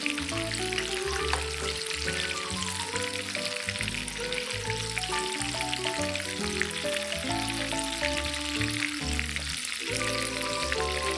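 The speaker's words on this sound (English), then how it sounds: "Just keep turning them over in the oil till they get a nice and even golden brown color." Chicken pieces for a KFC-style party starter fry in hot oil with a steady, close crackling sizzle that runs the whole time beneath loud melodic background music.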